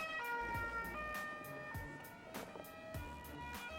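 A police car siren wails past on a motorway hard shoulder during a downpour with traffic halted, its rising and falling tone cycling several times over the rumble of nearby vehicles.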